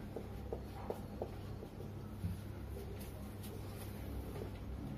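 Chalk or marker writing on a classroom board makes faint scratchy strokes in short bursts, quiet against a low background hum.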